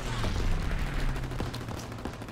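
Sustained machine gun fire in Call of Duty WW2 chatters in a fast continuous stream, loud and close with dense repeated shots over a low rumble.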